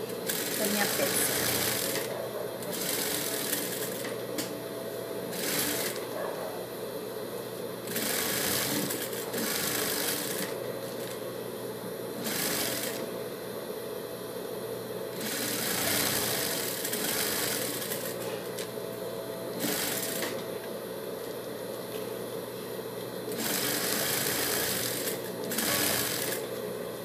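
A sewing machine stitches a fabric motorcycle-style face mask in repeated bursts of steady mechanical whirring separated by brief pauses. A voice speaks at times between the runs.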